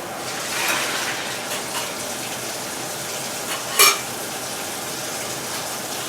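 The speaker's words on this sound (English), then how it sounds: "Fill and dump with water one more time." Tap water filling a film developing tank and being dumped out, a continuous rushing splash with a brief sharper slosh near the end as the water is poured away.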